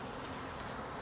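Honeybees in a hive give a dense, steady hum that fills the space evenly and holds without a break, close and continuous.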